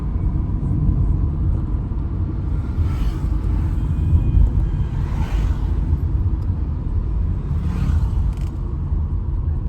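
Car driving uphill on a mountain road toward Ziro in Arunachal, a steady low rumbling engine and road drone with a few faint whooshing swells, no voices.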